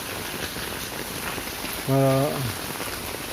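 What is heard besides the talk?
rain easing off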